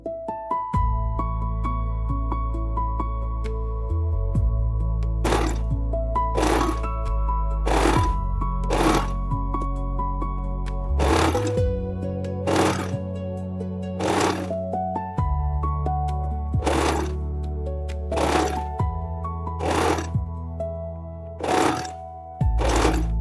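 A sewing machine stitches lace trim onto the hem of a girl's circle skirt, running in a dozen short, close bursts with pauses between, over a steady background tone.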